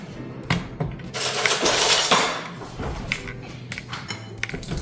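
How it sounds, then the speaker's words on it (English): Two cups of Quaker oats pour into a container as a short, rushing rattle that swells for about a second, framed by a few light clinks and taps. "I measured 2 cups of Quaker oats. 2 cups of oats. I'm going to pour all of them here"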